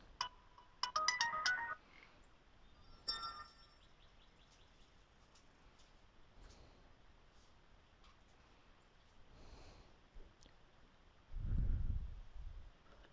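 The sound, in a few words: mobile phone ringtone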